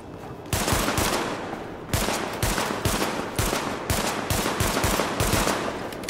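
Gunshots crack out in the video game The Division during a bird hunt, a loud rhythmic series of sharp reports roughly every half second with short pauses between volleys.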